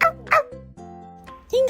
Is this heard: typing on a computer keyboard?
no